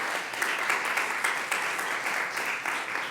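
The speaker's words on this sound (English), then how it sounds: "A round of applause for our panelists before we go to the next session." Audience applauding panelists at a Capitol Hill briefing on professional learning, a steady wash of many hands clapping for about three seconds, moderately distant with no talk over it.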